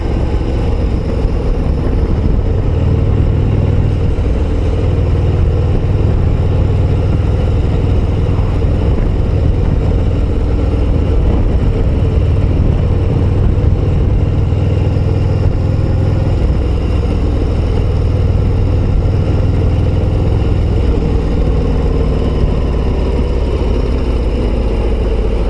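A Harley-Davidson Road Glide ST 117 motorcycle engine idles and rumbles steadily nearby, a deep continuous throb that never pauses.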